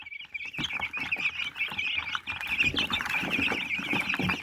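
Crowded chicks in a farm enclosure chirp without pause, a thick chorus of shrill peeps heard up close, with occasional soft scuffling underneath and no speech.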